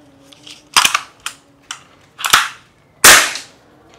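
A BB gun fires several times after its slide is pulled fully back, giving sharp, loud close-up cracks spaced about a second apart, each with a brief mechanical clack, with no talking.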